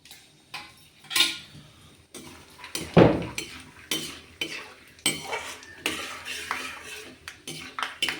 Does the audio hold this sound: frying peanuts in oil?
yes